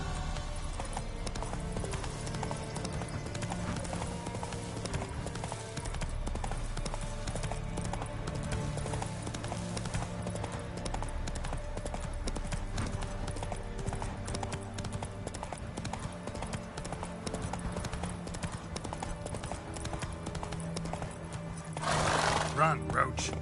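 Roach the horse gallops in The Witcher 3, with a steady rhythm of hoofbeats and occasional whinnies carrying over game music for the whole stretch.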